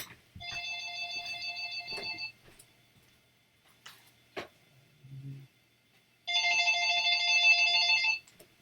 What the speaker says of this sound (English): let me just take the phone off the hook or something